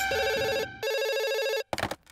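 A telephone rings in two long electronic bursts separated by a short gap, loud and close, followed by a brief rattling clatter as the ring cuts off.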